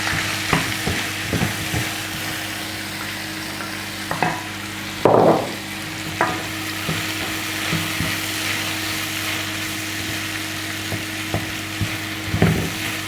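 Carrots frying in a pan, a steady close sizzle broken by repeated scraping and clacking stirring strokes, with one louder shuffle midway.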